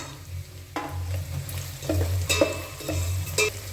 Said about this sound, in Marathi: तर आता आपण टाकत आहोत बटाटा